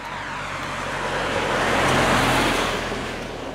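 A car driving past on a residential street, its broad tire-and-engine rush swelling to a peak mid-pass and fading away, steady and fairly near with no talking.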